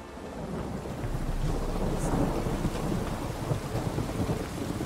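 Heavy thunderstorm downpour in The Witcher 3, steady dense rain hiss with low rolling thunder rumbling throughout, no voices.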